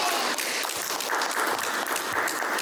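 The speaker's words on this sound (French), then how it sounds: "Applaudissez-le." A crowd claps in sustained, dense applause, loud and close, running evenly for a few seconds without pause.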